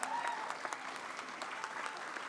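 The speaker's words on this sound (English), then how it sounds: "These mothers, man, let's give them a round of applause." An audience at a Burnett Bayland groundbreaking ceremony breaks into steady, moderately distant applause, a dense patter of clapping hands sustained throughout.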